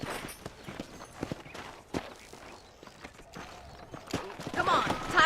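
Horse hooves clip-clopping in the video game Red Dead Redemption on Xbox 360, an irregular run of hoof hits and footsteps under steady character dialogue, growing louder toward the end.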